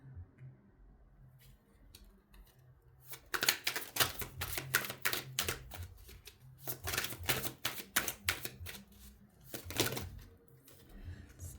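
Cards are handled and laid out on a table, with quick dry clicks and flicks that start sparse, then come in dense rapid runs before easing off.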